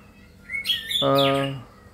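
A tame long-tailed white-rumped shama in a flight aviary gives a short, clear call: a rising whistle followed by a rich, harmonic warbled note. It is close and loud against quiet surroundings.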